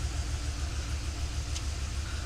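A 1966 Oldsmobile Toronado engine idles after a remote start, with a steady, low mechanical rumble, pulsing evenly and moderately quiet, with no voices.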